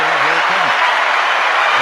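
Applause played from a sound-effect button rolls on as a steady wash of clapping, with a voice speaking over its start.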